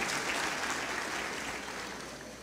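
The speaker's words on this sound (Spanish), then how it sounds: "Mire cómo aplaude la mujer." A congregation at a church service applauds in a continuous, even roar of many hands clapping, steady and fairly loud from start to finish.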